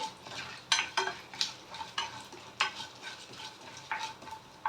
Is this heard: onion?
yes